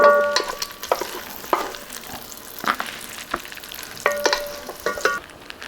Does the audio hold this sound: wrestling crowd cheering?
no